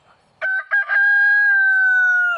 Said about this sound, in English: I ain't accepting this dang rooster being loud.